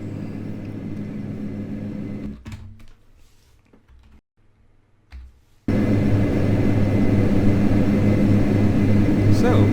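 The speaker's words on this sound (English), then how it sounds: "So that is the takeoff, that's the cockpit" Simulated Majestic Q400 turboprop taking off in Flight Simulator, a loud steady propeller and engine drone that drops away to near quiet midway, then returns abruptly at full strength, with a voice talking over it.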